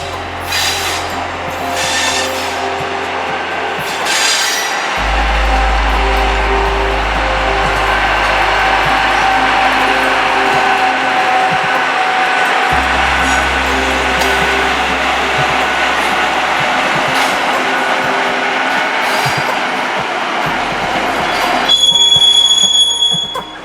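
A Norfolk Southern autorack freight train, an empty string led by a Union Pacific locomotive, rolls past loud and steady with continuous rumbling wheels and rail clatter, low engine throb swelling and fading, and a brief horn-like tone near the end.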